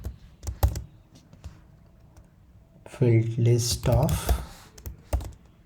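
Someone types Python code on a computer keyboard, a quick run of close key clicks and taps, with someone talking over the second half.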